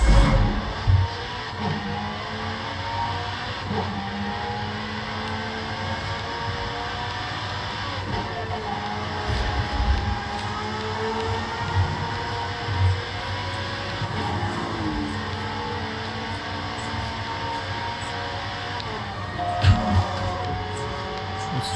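Race car engines drone continuously through a Forza 5 wheel-to-wheel race played on an Xbox Series S, with steady revving and shifting pitch sweeps, occasional louder surges and faint tire noise.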